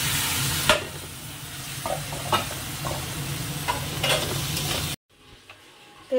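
Grated coconut frying in a pan with a spatula stirring through it, a steady close sizzle broken by a few sharp scrapes; the sizzle cuts off near the end, leaving only faint kitchen noise.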